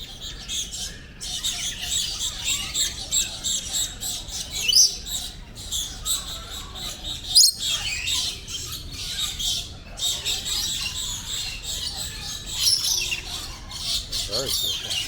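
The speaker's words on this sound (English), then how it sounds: "this is the parrot section" Parrots in a bird park aviary in Kuala Lumpur squawk and chatter almost continuously, shrill calls overlapping at close range, with occasional voices mixed into the noisy background.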